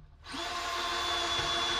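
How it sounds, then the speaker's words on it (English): A power drill whirs steadily as it works screws out of a counter in an off-grid cabin, starting up after a brief quiet moment and running loud and close without pause. "Do I have to unscrew this?"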